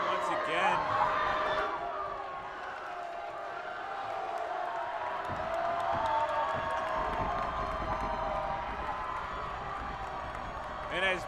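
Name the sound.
crowd cheering at a basketball game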